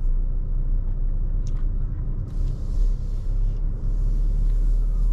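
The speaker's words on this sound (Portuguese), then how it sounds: "a gente já vai literalmente colocar em prática aí o rodar com a nova S10 Z71 aqui pelo Recife" A new Chevrolet S10 Z71 pickup driving through Recife, heard as a steady low engine and road rumble from inside the cab, with a faint higher hiss that comes and goes.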